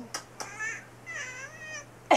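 A baby rabbit makes a few soft, high, squeaky little noises up close, short chirps followed by a brief wavering squeal, faint against a quiet room.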